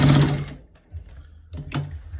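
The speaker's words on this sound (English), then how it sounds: "So we are first stitching this part before we stitch the right side." A sewing machine stitches along the left side of a trouser, running in a loud, steady burst, stopping, then giving two shorter bursts of stitching close by.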